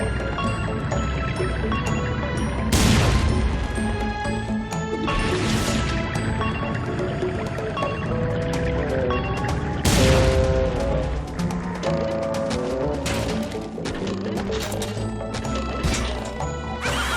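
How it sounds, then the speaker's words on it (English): In a SpongeBob SquarePants: Battle for Bikini Bottom Rehydrated cutscene, the Flying Dutchman's cannons fire at a robot ship. Several loud booming crashes come at intervals over dense game music and effects. "you'll be able to shoot the Dutchman's cannons to destroy the robot ship"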